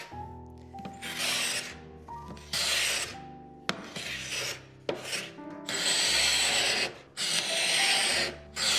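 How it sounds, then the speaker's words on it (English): Old finish scraped off a neglected mid-century modern wooden desk, long rasping strokes in repeated passes with brief pauses between, close and loud with no talk. "Maybe I scrape first."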